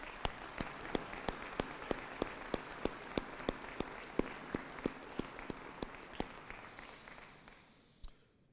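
An audience at a community salute-to-service event applauds, a steady rhythmic wash of clapping with sharp, evenly spaced nearby claps that tapers off near the end.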